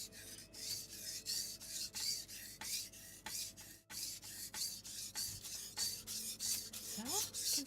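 A blade is drawn back and forth across a whetstone in long, regular rasping strokes, roughly two per second, close and clear, with a brief pause midway and no talking.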